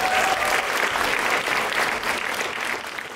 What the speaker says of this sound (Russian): Аплодисменты Сергею.